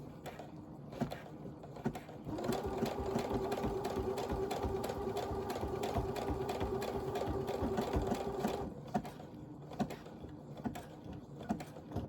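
Sewing machine stitching the fabric of a quilted jacket, a steady rapid run from about two to nine seconds, close and loud, with quieter handling clicks before and after.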